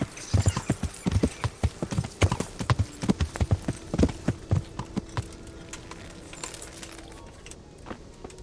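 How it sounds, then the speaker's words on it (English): Horse hooves clip-clop steadily in the medieval game Kingdom Come: Deliverance, a close, rhythmic clatter of hoofbeats that is strongest early on and then eases to lighter, sparser steps, with a brief whinny-like tone running through the middle. "I love this horse."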